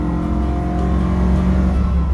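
A Lancia Fulvia's small engine revs hard close by as the car drives, a loud buzzy rasp holding steady over two seconds with no talk.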